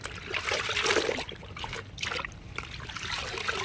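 Water splashes and trickles in a tub as cotton nighties are hand-washed, irregular close sloshing bursts that come and go.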